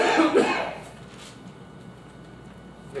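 A few close coughs at the start of a Baptist church service, fading into a quiet room with low background noise.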